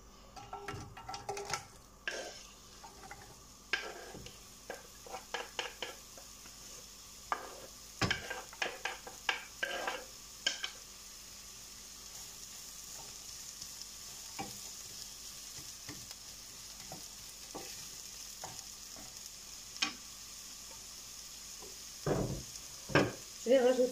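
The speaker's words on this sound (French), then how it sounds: "L'huile d'olive est chaude, je mets les oignons." Chopped onions fry in hot olive oil with a soft, steady sizzle under scattered louder clatters and pan knocks, with occasional brief handling sounds and no voices.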